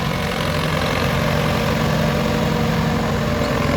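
A small walk-behind farm tractor engine running steadily, loud and close, a continuous low rumbling idle with no talk over it.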